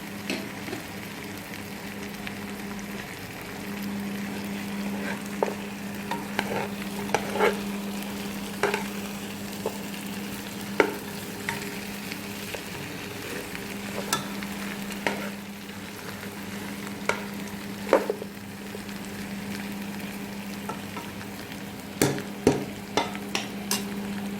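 Black peppercorns and cloves frying in a pan, a low steady sizzle broken by scattered sharp pops and stirring clicks, close and fairly quiet.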